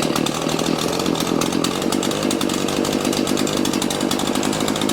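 A Shindaiwa edger engine that will not rev runs steadily at half choke, its loud, continuous buzzing drone holding a rough, pulsing rasp throughout.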